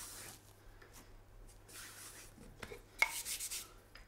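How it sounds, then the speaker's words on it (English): Hands pressing and patting oatcake dough made with steel cut oats on a work surface: soft muffled rubbing and squishing, close and quiet, ending in a few firmer pats. "Then you just press it with your hands."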